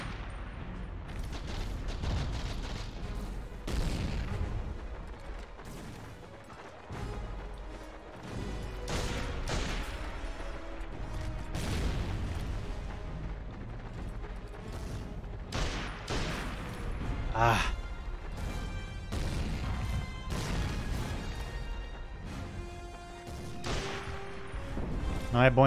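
Gunfire from the PS2 game Medal of Honor: European Assault, Battle of the Bulge mission, with repeated loud bursts and bangs over a constant battle din, while a voice talks over it.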